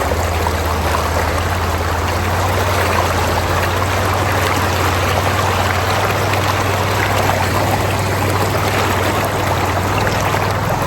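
Water gushes continuously from a displaced pond drain pipe, a loud, steady, close rushing roar with a constant low hum underneath and no talking.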